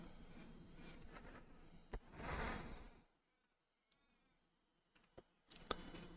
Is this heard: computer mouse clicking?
yes